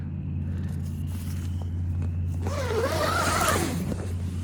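A tent door zipper is drawn closed in a long rasping pull with a rising and falling tone, close by over a steady low engine-like hum.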